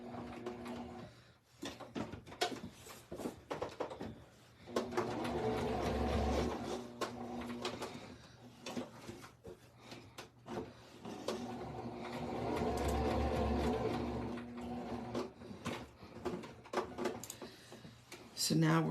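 A Singer Start 1304 sewing machine stitches fabric in two sustained runs of low mechanical whirring, separated by clicks, handling noises and a voice talking.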